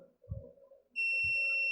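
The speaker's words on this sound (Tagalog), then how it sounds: "Dapat may buzzer tayo." A tester's buzzer sounds while checking a microwave oven fuse: a steady, high, piercing continuous beep starts abruptly after a couple of soft taps and holds to the end, close and loud.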